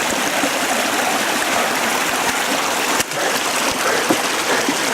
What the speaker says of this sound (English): I see a waterfall.